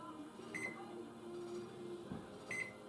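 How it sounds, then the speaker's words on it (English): Low, steady hum of a microwave oven running, with a couple of faint electronic beeps over the drone. "Let me microwave this for just a few seconds to warm this back up."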